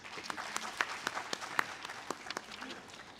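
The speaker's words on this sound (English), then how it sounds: "please give Mr. Atul Saxena, the CEO at Grow Diesel Ventures, a huge round of applause." A small audience claps sparsely and quietly at the India Mushroom Summit 2023 after a company CEO is introduced, with distinct individual claps rather than a dense roar.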